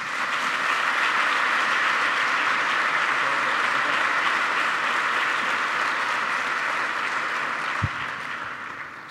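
Sustained applause from an audience at a commemorative ceremony for the 30th anniversary of the Erasmus programme, a dense even wash of clapping that holds steady, ends with a brief thump, and fades slightly.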